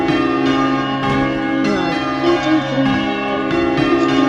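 Church bells ring in a realistic bell-tower simulation game, with a heavy tenor bell among them. Clear, resonant strikes follow one another in a steady rhythm, each leaving a long ringing tone.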